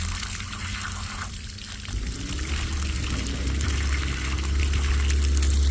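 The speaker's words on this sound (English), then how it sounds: "We're gonna put a little bit of water right here on the bentonite that we put around the well." Water is poured onto bentonite packed around a residential water well, a steady splashing pour that starts abruptly partway through and grows fuller, with no speech.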